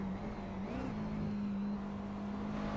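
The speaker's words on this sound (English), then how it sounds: "You could hear the engine rev pretty loud." A race car engine in a racing video game holds a steady drone, then briefly rises and dips as it takes an early gear shift before settling back into a continuous loud hum.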